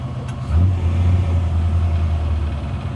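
A 1967 Toyota FJ40 on 37-inch tyres revs its cold engine and sets off, a deep loud rumble that swells after a short pause and holds steady close by.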